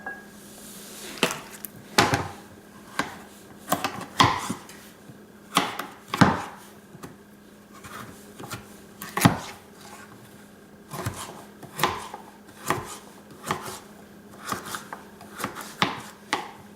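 A knife cubes dense, tough squash on a cutting board in a series of sharp, uneven knocks spread across the stretch, each chop crisp and close over a quiet room.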